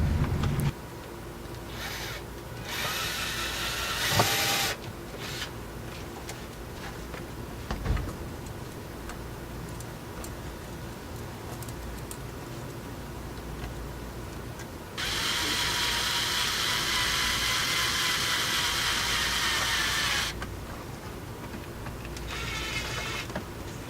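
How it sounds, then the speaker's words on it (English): A hose clamp being tightened to lock down side storage pieces in a 2006 Toyota Sienna van build: continuous close mechanical whirring and ticking, with a louder, brighter stretch partway through. "These pieces, we're gonna lock it down using the hose clamp on there."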